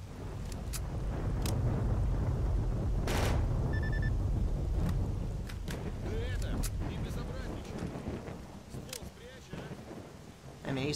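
Gunfire from a bandit in S.T.A.L.K.E.R.: Call of Chernobyl, sounding as a few sharp cracks spread over the clip against a low rumbling ambience, with a voice talking intermittently.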